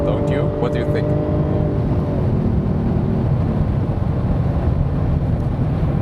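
A Jaguar F-TYPE R V8 AWD engine roars hard on a racetrack start, its pitch climbing briefly before settling into a loud, rough drone with wind buffeting the microphone.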